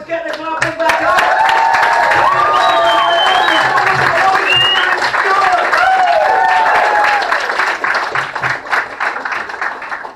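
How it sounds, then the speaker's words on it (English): A stand-up comedy show audience at the Castle claps and applauds loudly and continuously, a dense wash of close hand claps with some crowd noise and voices mixed in throughout. "get the noise, get the clapping back up"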